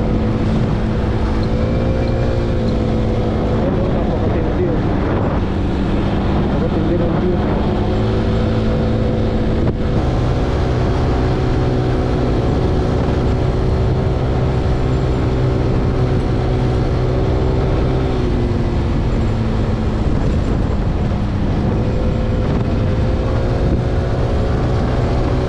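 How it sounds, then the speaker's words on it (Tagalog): Steady street traffic of cars and motorbikes on a weekend road in Nanzhuang, Miaoli, Taiwan, a continuous loud engine rumble with passing vehicles and no talk. "Daming motor, dami rin kotse."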